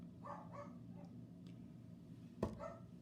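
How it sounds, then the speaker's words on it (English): A dog named Boogie barking a few times in the background, soft and somewhat distant with short yips and one sharper bark. "That's Boogie barking in the background, I swear."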